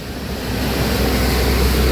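Heavy rain pouring down on a highway during a bus journey, a continuous loud wash of hiss and roar with rumbling noise underneath.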